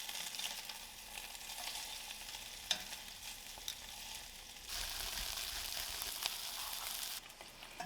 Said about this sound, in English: Allow the meatballs to cook until they're nicely browned on one side, and then use a pair of tongs to flip them over and cook the other side until it's brown